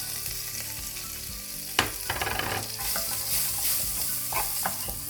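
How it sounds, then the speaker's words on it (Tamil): Rava semolina roasting in butter in a pan sizzles steadily, with a spoon stirring and scraping through it in irregular strokes, close and continuous without any talk. "அந்த பட்டரை அதில் கொஞ்சத்தை போட்டுட்டு இதை வறுத்து வைப்போம்."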